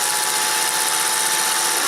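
A home sewing machine stitching heavy-duty fabric runs in a steady, loud, continuous whir with no pauses or voices.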